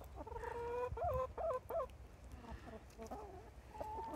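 Backyard egg-laying chickens cluck in a series of short, loud, rising-and-falling calls, with quieter clucks following in a farmyard setting.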